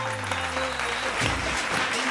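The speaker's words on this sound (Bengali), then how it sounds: "জোরে হাততালি।" Studio audience applause at a Bengali family game show, a steady wash of clapping with a musical bed and some voices underneath, loud and continuous throughout.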